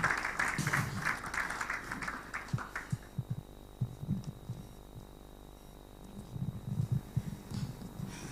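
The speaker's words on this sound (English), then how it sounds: "Let's give her a round of applause, ladies and gentlemen." An audience at the 2022 NLNG postgraduate award ceremony claps for about three seconds, then the applause fades into a steady electrical hum broken by scattered low thumps.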